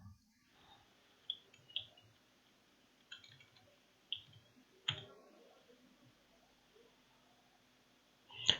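Mouse clicks on a computer launch button in a quiet room, a handful of sharp, faint clicks spaced irregularly over several seconds with near silence between.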